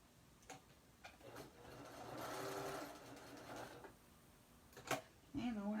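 A sewing machine stitching a black T-shirt dress hem with black thread, a soft close whirring run that swells in the middle, with faint clicks and brief handling noises around it.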